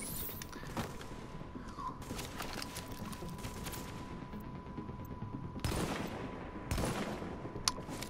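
Gunfire in a video game: a few sharp shots burst out near the start and again in the middle and late stretches, over a steady synthetic background hum, with no talking.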